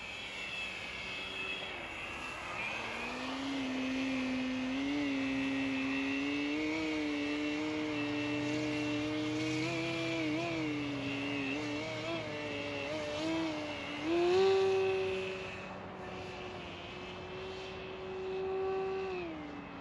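An E-Flite Extra 300 RC airplane flies overhead, its electric motor giving a steady, fairly loud whine that glides and shifts in pitch, dipping as it slows then surging with a louder burst of throttle near the end.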